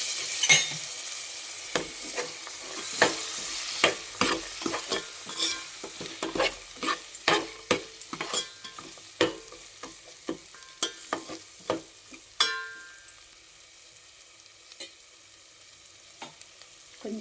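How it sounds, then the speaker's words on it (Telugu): Masala with ginger-garlic paste and green peas fries in oil for paneer biryani while a spoon stirs the pan: repeated close scraping strokes over a soft sizzle, slowing toward the end, with no voices. "మసాలా మగ్గేటప్పుడే పచ్చి బఠానీ కూడా వేసుకుందాము"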